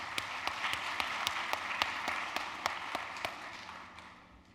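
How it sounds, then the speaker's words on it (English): Applause at an honors college induction and recognition ceremony in Virginia Hall: a soft, evenly paced run of distinct claps that gradually fades out toward the end. "Can we give them a round of applause too?"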